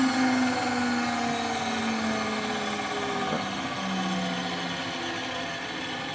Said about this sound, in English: That's just a simple belt-driven spindle.